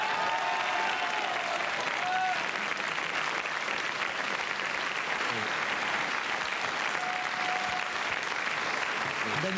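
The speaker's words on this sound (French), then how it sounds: "Je vous demanderai de l'applaudir bien fort." A French television studio audience gives sustained applause, a continuous wash of many hands clapping at moderate volume for nearly ten seconds.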